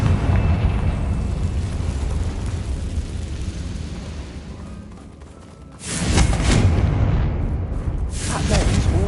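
Confringo spell blasts in the Hogwarts Legacy video game, two loud bursting explosions a few seconds apart over a steady low rumble of background game ambience.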